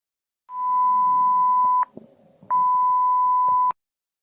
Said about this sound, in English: Please stand by after the beep.